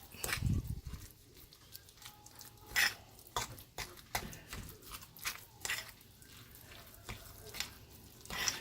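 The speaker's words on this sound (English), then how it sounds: "mix it together. I like using a fork. Just kind of chop it up." Fathead pizza dough mixed and chopped with a fork in a bowl: a series of sharp, irregular clicking and scraping taps, close and fairly loud, with no speech.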